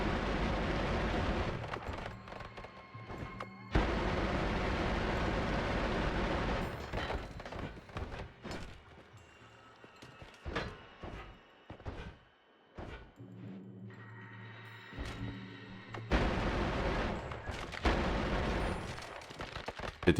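Rapid bursts of fire from a 2-frame wand in the game Noita, dense loud crackling and booming volleys in long runs with a brief quieter gap midway, no talking.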